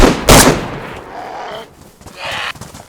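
A single loud, close rifle shot from a 5.56 AK variant (KA-101) in the video game DayZ, with a sharp crack and a rolling tail, followed by a quieter second report near the end.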